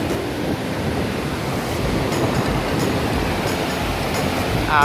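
Sea waves wash steadily onto Nai Harn beach in Phuket, a continuous broad surf roar with wind noise and no voices.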